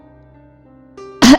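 A short, loud burst of an imitated cough, voiced by a narrator in a horror story, comes right after a quiet stretch of sustained tones, forming one sharp forceful expulsion near the end.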